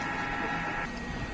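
The head of a Honjet XP600 30cm DTF printer parks at its capping station. A brief, close motor whir cuts off partway through, leaving a faint mechanical hum.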